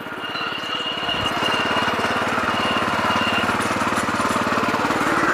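A Heavyator power tiller's engine chugs steadily in gear with a fast, even, thumping beat that stays loud and close throughout, with no talk over it.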